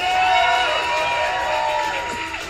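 A live audience at a Schmoedown event cheers and claps in a steady, dense roar, with individual shouting voices rising out of the crowd noise.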